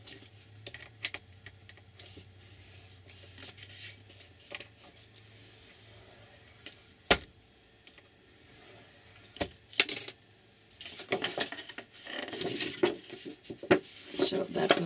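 A card for a lapbook being scored at the 8-inch mark: close, dry clicks and taps, then a longer scraping drag of the scoring tool along the card toward the end, with a low hum at the start.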